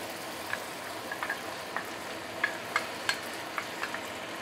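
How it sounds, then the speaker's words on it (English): Ginger paste sautéing in vegetable oil, a quiet steady sizzle with small pops and crackles scattered through it, close up and without talk. "we are going to saute the ginger paste"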